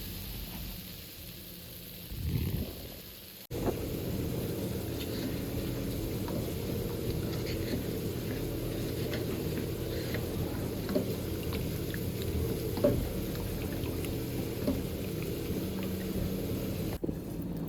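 A pot of prawn and radish curry simmers on the stove, giving a steady bubbling hiss that holds at an even level, with a brief clatter near the start and no talk.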